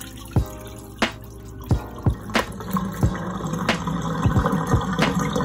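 Rinse water tipped out of a container of fresh green beans, falling as a run of distinct drips and splashes spaced irregularly, close and moderately loud over a faint watery background.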